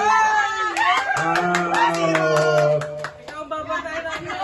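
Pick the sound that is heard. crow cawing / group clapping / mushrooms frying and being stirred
group clapping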